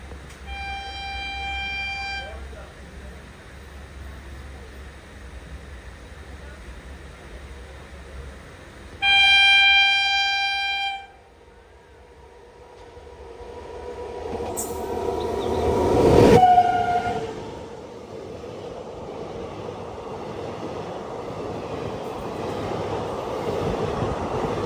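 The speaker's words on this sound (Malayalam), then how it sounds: "മുംബൈ CST റെയിൽവേ സ്റ്റേഷനിൽ നിന്ന് മംഗളൂരു ജംഗ്ഷനിലേക്ക് പോകുന്ന സൂപ്പർ ഫാസ്റ്റ്" A superfast express from Mumbai CST to Mangaluru approaches and passes, sounding two long horn blasts with a loud rising roar of cars and rail noise, then fading to a steady rumble.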